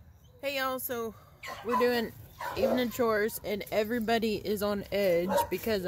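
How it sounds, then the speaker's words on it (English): A dog barks in the background on a dairy farm during evening chores, sharp yelps scattered under a person talking continuously close to the microphone. "As you can hear the dog in the background"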